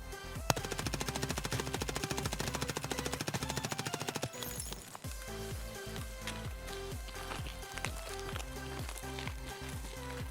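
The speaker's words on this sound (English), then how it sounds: "let's shot the silenced version, which is a low recoil MP5" A silenced, low-recoil MP5 fires in Escape from Tarkov, first as one long rapid automatic burst of close, suppressed shots, then as shorter bursts and spaced single shots.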